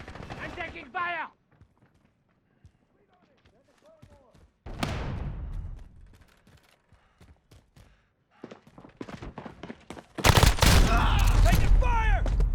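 Gunfire in the video game Call of Duty: Modern Warfare comes in loud rapid bursts: one short volley midway, then a heavy sustained barrage at the end, with scattered game sounds between.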